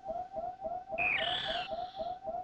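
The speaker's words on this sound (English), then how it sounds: "You hear that same chirp." In the Super Metroid video game, a Metroid creature gives a single short, bright chirp over a steady, pulsing electronic game tone that keeps beating underneath.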